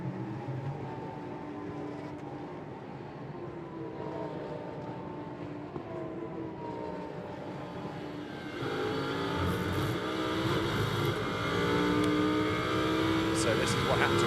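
Lamborghini Super Trofeo race car at Valencia restarting after a spin, its engine droning and then rising louder as it pulls away, with a commentator talking over it throughout.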